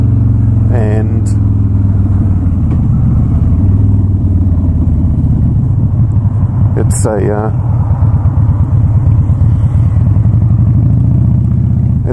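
A Harley-Davidson Dyna Wide Glide engine rumbles steadily and loudly throughout, with someone talking over it.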